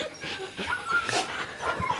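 Excited dog whimpering and panting close by, a run of short high whines and yips over quick breathy pants, fairly loud throughout the brief moment.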